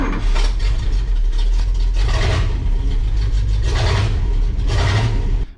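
A Ford F250 crew cab truck engine fitted with new spark plug wires runs loud and close, revving up and down in several surges over a steady low rumble.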